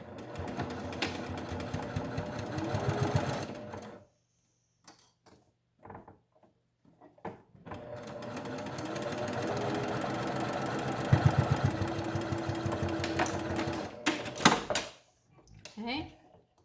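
A sewing machine stitches a fabric face mask in two long, rapid bursts of close, rhythmic whirring, separated by quiet gaps with a few scattered clicks and handling sounds.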